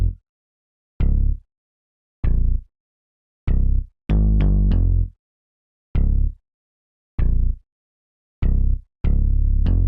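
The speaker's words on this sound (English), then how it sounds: "Next element that we have is a bass, which sounds like this." A simple bass line in a 2000s-style hip-hop beat plays alone, with short punchy deep notes hitting in a steady, spaced rhythm and a few quicker clustered notes.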